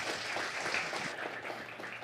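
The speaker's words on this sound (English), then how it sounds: "Let's give you guys a round of applause for their help." Applause from a church congregation for volunteers who helped during a Bible teaching session, a steady even wash of clapping heard from the room throughout.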